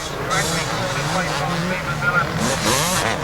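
Honda race motorcycle with a Wiseco piston passing through at a race, engine revving and whining at mid distance, running under a commentator's continuous talk.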